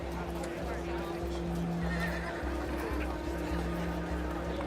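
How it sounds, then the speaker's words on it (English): Several horses neigh and whinny nearby, with hooves clip-clopping, outdoors at a travellers' horse deal. Low engine-like hum runs underneath, and people talk over the animals. "Oh, look at a few horses."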